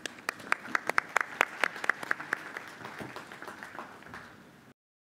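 Applause from a conference audience at a Jamaica diaspora gathering, a sparse patter of distinct claps close by that thins out and fades before stopping abruptly.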